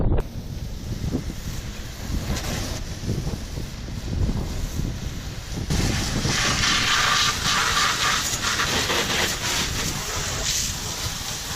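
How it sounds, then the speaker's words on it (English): Wind blowing across a sailboat deck, a steady rumbling buffet on the microphone that swells louder and more hissing halfway through, with water and boat noise beneath and no talk. "The wind will help me."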